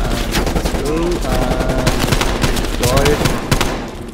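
Rapid automatic gunfire bursts from the video game Call of Duty: Black Ops Cold War, steady and loud throughout with game tones and effects layered in.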